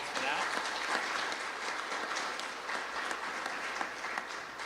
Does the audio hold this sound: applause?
yes